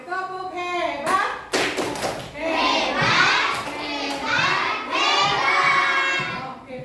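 Children in a classroom perform the 'tepuk hebat' clapping routine, with sharp rhythmic claps and taps mixed into loud, overlapping children's chanting and shouting close by.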